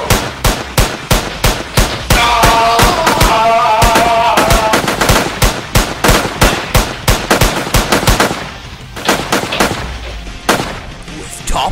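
Machine-gun gunfire sound effects fire in rapid bursts of sharp, loud cracks across the whole stretch, with a voice briefly heard over the shooting partway through.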